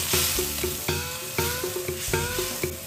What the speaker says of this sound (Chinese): 再把番茄加进来，一起炒香